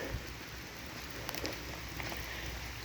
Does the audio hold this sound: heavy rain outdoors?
yes